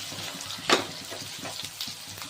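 Onions and raw yam frying in a pan with turmeric, a steady soft sizzle with a sharper crackle near the start and faint stirring scrapes, close and moderately quiet.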